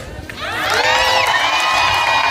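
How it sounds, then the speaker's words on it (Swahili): A congregation at a school church service breaks into loud, sustained ululation, many high trilling voices swelling together with some cheering and shouting in a large crowd. "Vigelegele vya Yesu sasa."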